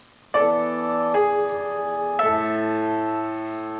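Sustained chords ring out on a keyboard, a few struck notes of a dominant seventh chord resolving into a final tonic chord that lingers, clear and close with no talking.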